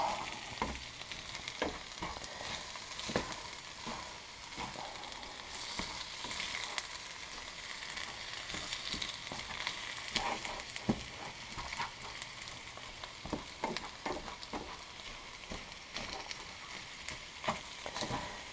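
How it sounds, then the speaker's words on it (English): Eggs sizzle and crackle steadily in a hot pan while being stirred, a continuous close frying hiss broken by frequent clicks and scrapes of the utensil, no voices. "Keep it moving. Because the last thing we want to do is burn the eggs."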